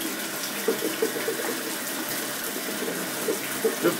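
Hot bath water runs steadily from a tap, a constant close gushing stream with small splashes.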